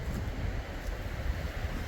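Wind blowing outdoors on a homestead property during a grouse hunt, a steady low rumbling roar of gusts buffeting the microphone, with no talk.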